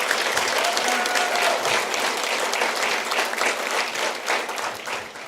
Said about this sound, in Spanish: Yo doy un aplauso al Señor por esos varones y mujeres valientes.